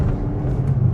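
A 2025 Kia Soul EX rounds a curve, its low engine and road rumble steady and fairly close for a short moment, with no talk.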